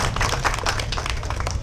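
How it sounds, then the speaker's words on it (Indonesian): A crowd of guests claps at the launch of Kuliner Rumah Jenderal, a dense burst of applause that fills the whole short moment. "Boleh tepuk tangan Ibu Bapak"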